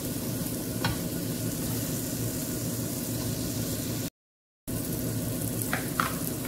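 Quiet, steady sizzling of bread rolls toasting in butter on a hot griddle, with a couple of faint utensil clicks and a brief dropout partway through.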